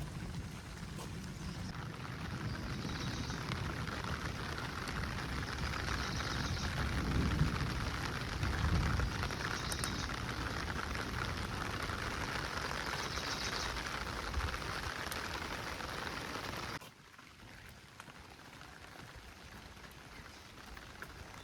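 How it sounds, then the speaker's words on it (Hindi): Steady rain falling over a large hillside village at Maldevta, a broad continuous hiss that holds throughout, then drops to a quieter patter for the last few seconds. "रेन की जो साउंड है उसको भी एंजॉय करें"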